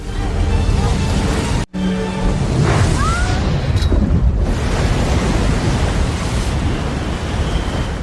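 Storm winds roar and heavy waves crash around a small sailboat on the open sea in a film about a 16-year-old girl sailing alone, a loud continuous rush with one brief cut to silence partway through.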